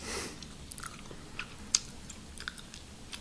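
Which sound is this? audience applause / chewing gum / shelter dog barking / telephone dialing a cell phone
chewing gum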